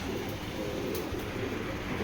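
Two female Giribaj pigeons coo softly at close range, a low, continuous murmuring burble under a steady background hum, with no speech.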